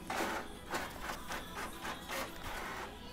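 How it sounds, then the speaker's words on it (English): A home computer printer runs through a job of several pages, its print head whirring in repeated regular passes with steady mechanical noise between them. "And my computer printer has just spit out 10 pages."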